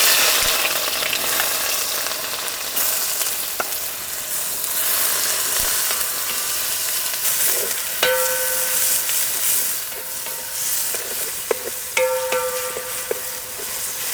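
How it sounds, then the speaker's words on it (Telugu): Sliced onions frying in about four spoons of hot oil in a pan, a steady close sizzle throughout, broken by a few sharp metallic clinks of a spoon stirring against the pan. "ముందుగా 4 చెంచాలు ఆయిల్ వేసుకుందాం. ఉల్లిపాయలు వేసుకుందాం."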